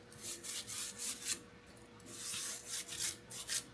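A brush scrubs dust off gaming PC parts in quick, rhythmic rasping strokes, close and fairly quiet, with short pauses between bursts.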